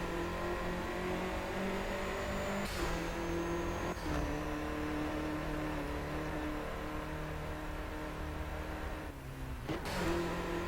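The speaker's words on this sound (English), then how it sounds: "The GTI is such a controllable car." A Volkswagen Golf GTI drives on a track in Garry's Mod, its engine droning steadily with shifting revs and brief gear-change breaks, loud and continuous with no talking.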